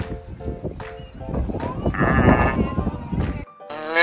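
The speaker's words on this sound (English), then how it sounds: "See the goat?" A goat bleats several times, close and loud, amid a busy toddler play scene with background voices and a bright tone near the end.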